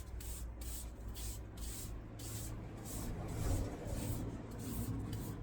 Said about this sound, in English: we have to brush off all the shavings